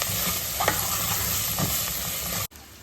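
Onions frying in a pan for a Mangalorean clam sukka, with a steady close sizzle and a few soft scrapes of stirring, cutting off abruptly near the end.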